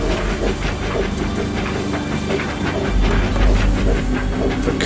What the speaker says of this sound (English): the sound of hissing and clanking could be heard